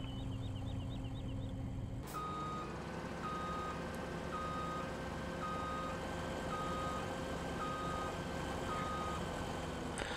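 A combine harvester in Farming Simulator 17 gives off a steady series of evenly spaced reversing beeps over a constant, loud engine drone.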